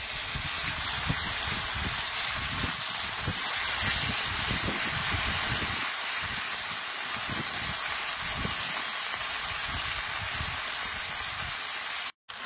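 Ground spice paste fries in hot oil with a loud, continuous sizzling hiss, steady for several seconds before cutting off abruptly near the end.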